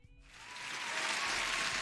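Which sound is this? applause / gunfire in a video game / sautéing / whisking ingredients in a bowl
applause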